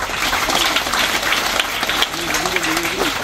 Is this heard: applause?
yes